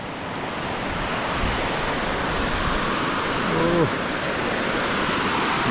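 Water pours steadily over a stone weir in a village, a continuous broad rushing wash close by with a brief faint voice-like tone in the middle.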